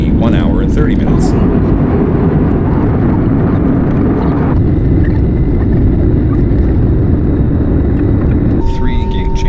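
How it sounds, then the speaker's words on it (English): A passenger jet rumbles loudly and steadily from the cabin, with the engine roar shifting in pitch midway as it taxis and takes off on a domestic flight in the Philippines. "Finally, we taxied, got into the air."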